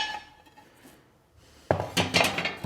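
A heavy cast iron plate from a vintage 1900s Orbon stove is handled: quiet rustling gives way to a burst of loud, close metallic clanks and scrapes.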